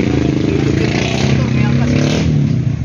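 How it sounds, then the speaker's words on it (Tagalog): Two motorcycles, each carrying a passenger, pass near a bridge with a steady, loud engine drone and rumble, mixed with traffic noise and voices in the background. "May angkas na yung dalawang motor."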